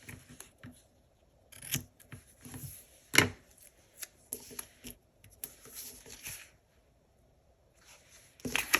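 Scissors snip through sticker strips in a handful of short, separate cuts with quiet gaps between them, close and fairly soft.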